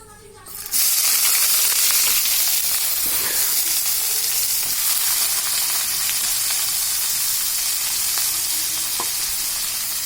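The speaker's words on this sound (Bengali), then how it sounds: "এবার একটু তেল তাতলে আমরা পেঁয়াজটা ঢেলে দেব" Onions hit hot oil in a pan with a sudden loud, steady sizzle that continues close and unbroken, with faint occasional stirring clinks.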